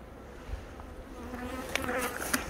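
Honeybees buzz around hives in an apiary with autumn taioun and ajram plants nearby, a steady close hum with individual bees passing louder near the end.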